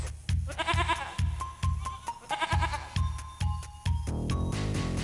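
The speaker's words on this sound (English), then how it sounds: "Little Bo-Peep fell fast asleep and dreamt she heard them bleating." Sheep bleat over and over in a nursery-rhyme setting, loud repeated wavering cries with a regular beat and musical tones running beneath them, and no talking.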